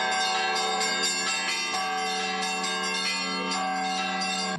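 Church bells ring in a dense, sustained peal with repeated strikes layered over long humming overtones, loud and continuous with no talk, part of a gathering of Russia's leading bell ringers in Tatarstan.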